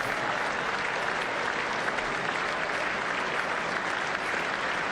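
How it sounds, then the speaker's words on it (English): Sustained, dense applause from the audience gathered in the chamber of Congress during a presidential State of the Union address, steady and loud throughout with no break. "President Trump does indeed seem to be soaking up this moment as he listens to the applause of those gathered in the chamber"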